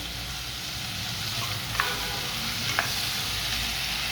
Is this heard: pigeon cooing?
no